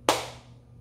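A single sharp hand clap rings out during a prayer to Saint Anthony, close and crisp, with a short decaying tail in a quiet room.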